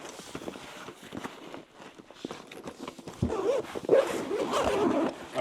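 A zipper on a Nexus 20L backpack compartment is pulled open, a scratchy, uneven run of rasping that grows louder and busier toward the end, with soft handling noise before it.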